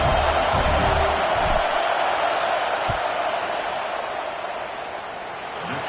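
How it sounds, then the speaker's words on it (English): A large college football stadium crowd roars during a field goal attempt in a Texas vs Texas A&M game, a dense, steady wash of noise that stays loud throughout and eases slightly near the end. "This crowd trying to do its part to get inside the kicker's head."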